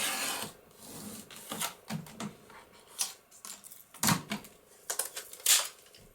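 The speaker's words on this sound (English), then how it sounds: "I will also trim it down to about 1 inch." Heavy card paper being trimmed down to a narrow strip for a handmade December album cover, giving close, scratchy cutting and rasping strokes in short irregular bursts on a quiet tabletop.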